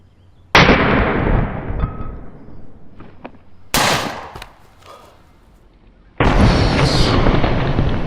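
An air pressure pistol fires point blank into a gelatin zombie target, three sharp loud blasts each followed by a decaying rush of air and debris, the last burst sustained and roaring.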